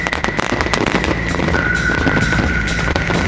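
A fireworks display with shells bursting in rapid succession, dense crackling pops and booms overlapping one another, continuous and loud with a sustained whistle running through the barrage.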